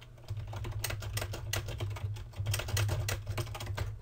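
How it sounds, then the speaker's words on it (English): Typing on a computer keyboard at a desk, a quick irregular run of close, light key clicks that continues throughout with no voices. "type in what is the diameter of the Earth in feet"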